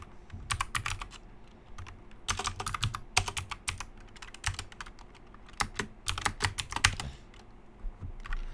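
Typing on a computer keyboard, close and fairly quiet: irregular clusters of crisp key clicks with short pauses between bursts.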